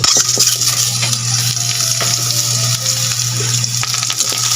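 Egg goes into a pan of food cooking on the stove, producing a loud close sizzle with stirring clatter and a steady low hum underneath, continuous throughout without speech.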